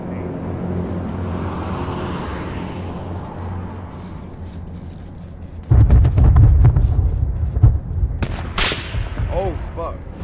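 After a stretch of steady background game rumble, a grenade explodes in H1Z1 King of the Kill: a sudden loud, deep blast that rumbles for about two seconds, followed by sharper cracks and scattered effects.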